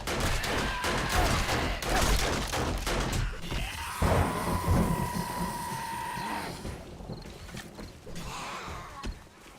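Gunfire in 7 Days to Die (Ravenhearst), a dense run of rapid shots, loud and close, through the first half, then a sustained tone and scattered impacts as the shooting thins out.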